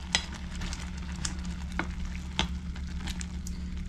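Lemon and clove herbal cough syrup boiling in a pot, a soft continuous bubbling and sizzling with occasional pops and light clinks, no talk.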